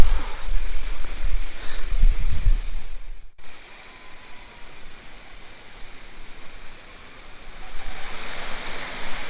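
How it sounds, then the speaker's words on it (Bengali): A waterfall at Darjeeling's Rock Garden rushes as a steady, broad roar of falling water, loud and close at first, then dropping to a softer, more distant wash before swelling again. "এখন এই ঝর্ণার উপরেই আমরা চলে এসেছি"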